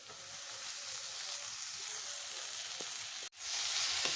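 Onion frying in a pan, a steady close hiss of sizzling oil that runs almost unbroken, with a brief dropout near the end before the sizzle resumes.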